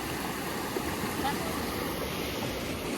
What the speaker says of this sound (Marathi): भरपूर असं पाणी इथं ओढ्याला.